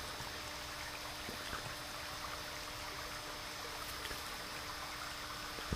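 A brook on a homestead runs past a tree below a dam, giving a faint, steady trickling and gurgling of flowing water heard alone from a moderate distance.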